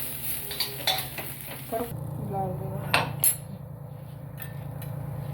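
Onion being sautéed in a pan while a spoon scrapes and clinks against it, for Maharashtrian masvadi; soft sizzling runs underneath several sharp metallic knocks and stirring scrapes, fairly close and moderately quiet.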